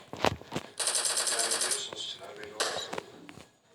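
Video game gunfire sounds as sharp single shots followed by a rapid automatic burst and more shots, close and loud, with a player talking over parts of it.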